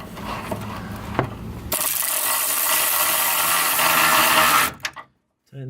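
A hose clamp on a car radiator hose is tightened with a power driver, a loud continuous whirring rattle for about three seconds after a few mechanical clicks, then it stops abruptly.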